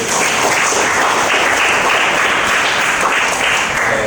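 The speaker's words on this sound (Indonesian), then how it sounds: "Tepuk tangan dulu." A school class claps hands during a morning science lesson, producing a loud, continuous, even wash of clapping from start to finish.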